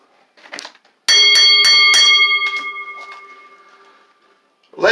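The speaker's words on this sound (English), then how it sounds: "Ring the bell." A wrestling ring bell clangs several times in quick succession after a pinfall at a pro wrestling event, the bright metallic strikes ringing out and decaying over a few seconds, with crowd noise before and a voice starting at the end.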